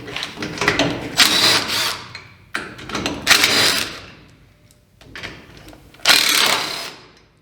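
A power tool spins out the bolts on a dump trailer jack in three loud whirring bursts separated by short pauses, close up and with no talking.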